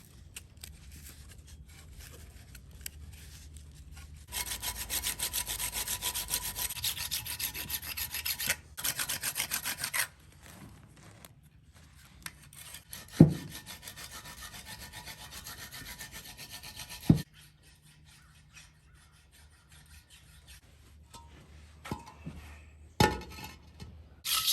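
A metal blade edge is sharpened by hand, with long stretches of rough, rasping strokes scraping back and forth, broken by pauses and a few sharp knocks, fairly close and without talk.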